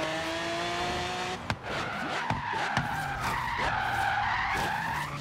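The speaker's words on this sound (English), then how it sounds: "Drifting in a Lamborghini." A 2011 Lamborghini Gallardo LP 570-4 Superleggera drifts in Forza Horizon 3, its tires squealing in long sliding tones over a steady engine roar, with a few sharp knocks as the slide shifts.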